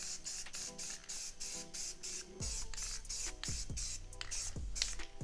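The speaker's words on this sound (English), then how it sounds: "Now we're going to go do a couple coats of gloss black on here." Gloss black spray paint hisses from an aerosol can onto a headlight reflector in short repeated bursts, with a can rattle and faint clicks between sprays, close and steady.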